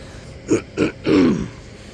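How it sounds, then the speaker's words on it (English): A person standing near a railway level crossing coughs twice in quick succession, then gives a longer, rasping throat clear, close and alone. "Sorry, I've just got a cough."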